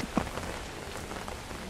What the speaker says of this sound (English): Be thankful for the rain.